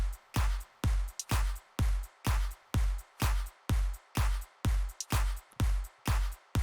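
Soloed electronic drum loop for a slap house track: punchy kicks, claps, crisp hi-hats and a shaker, about a dozen hard hits in a steady four-on-the-floor pattern with short ticks between beats, loud and dry with no voices.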